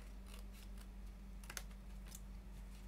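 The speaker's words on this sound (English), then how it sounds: "you're just going to go ahead and cut that straight piece off" Scissors cut a straight strip off a piece of paper for a gatefold mini album, giving a few quiet, crisp snips spaced across a steady low background hum.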